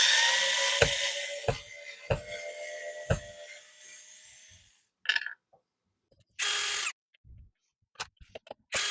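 A power drill runs and grinds into an Ibanez Jem-style kit guitar, drilling holes deeper, with periodic knocks, then stops; later come a few short, separate bursts of the drill spinning up close by.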